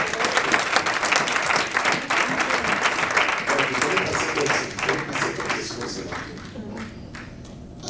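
A church congregation claps and applauds loudly in dense, rapid bursts that gradually thin and soften toward the end.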